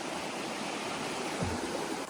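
Water of a creek flowing steadily at a bush crossing on the way to Federation Peak, a continuous broadband rushing wash that stays even and fairly close, with no voices.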